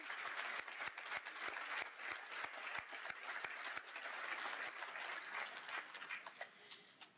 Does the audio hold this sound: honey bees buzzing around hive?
no